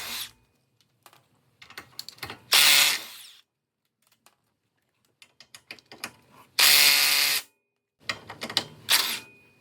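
A ratchet works the 17 mm nuts and bolt of a front lower ball joint on a 2017 Acura RDX. Bursts of fast clicking alternate with loud powered spins and short pauses in between, close and clear.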